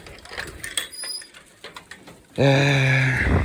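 Pigeons kept in a loft give a close, loud drawn-out coo near the end, preceded by quieter rustling, clicks and soft bird sounds.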